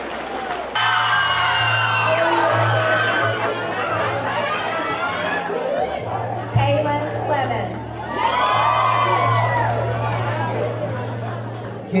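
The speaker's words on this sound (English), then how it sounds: "Let's give them all one more round of applause." A crowd at a high school graduation claps and cheers loudly, with whoops and chatter from many voices rising and falling over a steady low hum.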